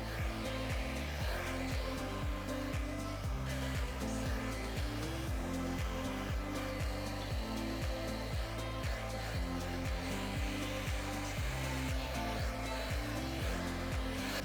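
A hair dryer drones loudly and without a break while blow-drying fine hair cut in a bob. The steady whirring airflow rises and falls slightly as it moves, close and alone.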